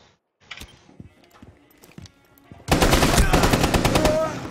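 Gunshots in the video game Rainbow Six Siege, first a few sparse single shots and footsteps, then a sudden loud burst of rapid automatic fire that carries on to the end.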